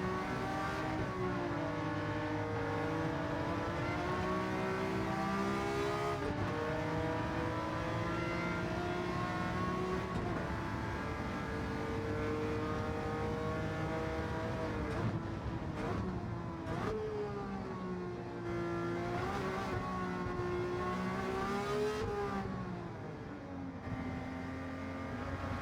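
A Ferrari P4 330 from 1967 races at Le Mans in Gran Turismo 7, its engine screaming loud and continuous at high speed with rising and falling pitch through gear changes, nearby and steady for the whole stretch.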